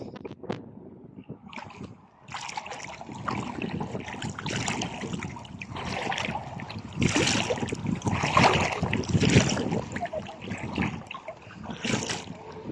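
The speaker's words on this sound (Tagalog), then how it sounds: "malakas pa hangin" Strong wind roars and buffets the microphone continuously at a beach resort, gusting louder midway, with rushing water or waves underneath.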